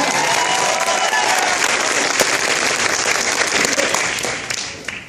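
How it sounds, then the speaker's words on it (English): A convention panel audience at MomoCon gives a full round of applause, thick continuous clapping with a few light cheers that holds steady before tapering off at the end. "Let's please applaud for her."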